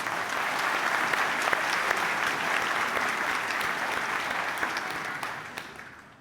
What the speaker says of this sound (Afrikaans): Kom ons gee vir haar mooi hande klap.